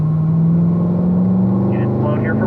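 A 2018 C7 Stingray Corvette is driven hard around the Spring Mountain race track, and its engine holds a steady, loud, low drone from inside the car with a faint tire whine near the end.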